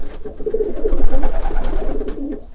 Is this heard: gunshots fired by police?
no